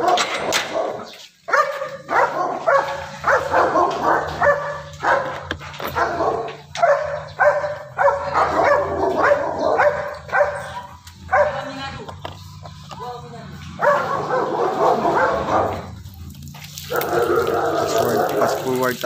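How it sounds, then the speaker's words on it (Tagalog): Many dogs bark at a customer's house during a pet grooming visit, overlapping loud barks and yips in repeated bursts, with running water and occasional talking underneath. "Daming aso."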